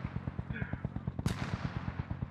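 Rapid, rhythmic video game gunfire, a steady burst of evenly spaced shots like an automatic weapon, with one louder, sharper crack midway, fairly close and loud.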